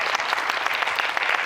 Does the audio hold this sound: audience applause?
yes